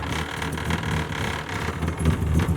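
Honda K20-powered car driven in second gear at low revs, its engine giving a steady low rumble and drone that swells slightly near the end, with faint voices in the background.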